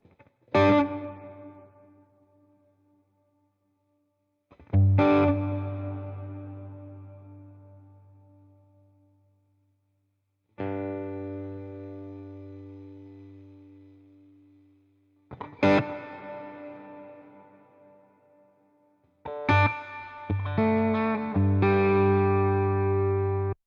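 Electric guitar chords struck one at a time with long pauses, each ringing out and fading slowly in a smooth, spacious plate reverb tail, ending in a busier strummed passage.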